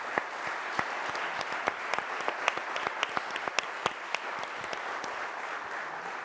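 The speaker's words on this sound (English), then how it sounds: "Please give all of our Republican candidates a big round of applause." An audience at a New Canaan selectman debate gives Republican candidates a round of applause. The steady crowd clapping carries many distinct sharp individual claps throughout.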